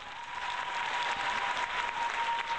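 A studio crowd on a radio show bursts into sustained applause, a dense, even wash of clapping that stays loud and unbroken throughout.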